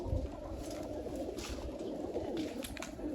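Pigeons cooing repeatedly in a loft as they are let out into the sun, soft overlapping coos close by with faint background rustle and no talk.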